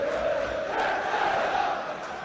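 Football crowd at an Aldershot Town against Wrexham match reacts to a penalty decision with a sustained, dense roar of jeers and shouting, loud and continuous across the whole moment.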